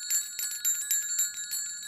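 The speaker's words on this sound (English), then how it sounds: "Did I hear ice cream bells?" Small bells on an ice cream cart jingle in a quick, steady ringing pattern, bright and metallic, with no voices.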